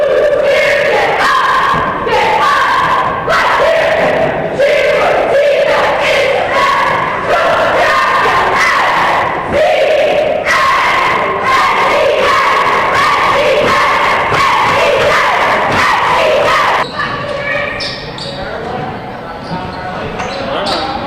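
A loud crowd roars and cheers steadily at a boys' high school basketball game between NCCS and Westport, with shouts and ball bounces in the din. Near the end the noise eases a little.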